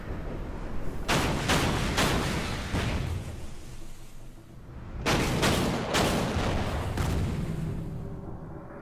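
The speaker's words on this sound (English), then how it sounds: "It's a lot of sound with the battleships." Battleship gunfire from naval combat in the strategy game Order of Battle: Pacific, during the Guadalcanal campaign: two bursts of heavy, booming salvos, each a rapid cluster of loud blasts, with rumbling decay between them.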